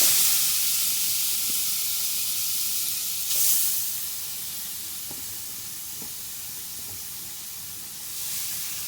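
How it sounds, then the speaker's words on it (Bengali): Grated carrot frying in hot ghee, a loud dense sizzle close by that gradually eases, with a few faint scrapes and taps of stirring and a brief surge of hiss partway through, no voices. "গাজরটা দিয়ে ভালো করে ভাজতে হবে"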